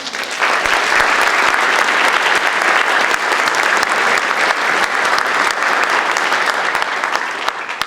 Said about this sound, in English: please give yourselves and everyone a big round of applause